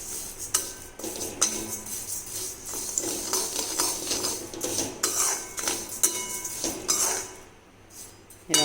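Ingredients for kattu pongali dry-roast in a pan without ghee or oil, while a metal spoon scrapes and clinks against the pan in busy, uneven strokes, close and fairly loud.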